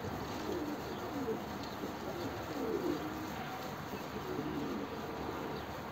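Pigeons cooing, soft low repeated coos scattered through steady background noise, fairly close but not loud.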